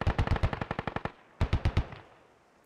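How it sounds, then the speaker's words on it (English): Automatic rifle fire in the tactical shooter game Squad, heard as a fast, loud burst of shots, a short pause, then a second burst of four rounds that fades into a quiet tail. "And everybody's shooting."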